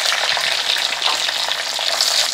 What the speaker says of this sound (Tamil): வெங்காயம் வந்து நல்லா வதங்கிடுச்சுங்க,